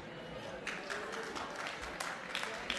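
Applause from a nightclub audience at a live music show, a steady dense wash of clapping that carries through the whole stretch at moderate level with occasional sharper claps.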